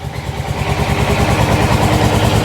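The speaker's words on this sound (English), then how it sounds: "the engine sounds nice and quiet" A motorcycle engine idles steadily nearby, a low, even putter with a fast regular pulse and no revving.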